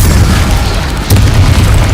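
Deep booming spell blasts from combat in Hogwarts Legacy, a loud continuous rumbling barrage with a sharper burst near the middle, heard alone without talk.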